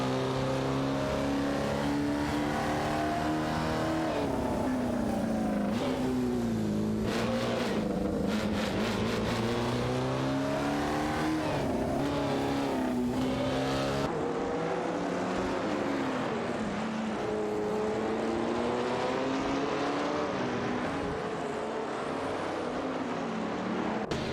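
Vintage race car engines roar around Eastern Creek in a racing game, a Chevrolet among the pack, with a continuous loud drone rising and falling as cars rev, shift and pass without a break.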